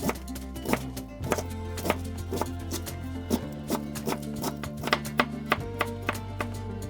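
A knife chops cabbage for okonomiyaki on a cutting board with a steady rhythm of crisp taps, close and clear, while soft background music plays underneath.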